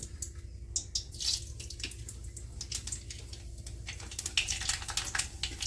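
Nigella seeds hit hot oil in a pan and set off a dense, continuous crackle of tiny pops and spits, close and fairly loud over a low steady hiss.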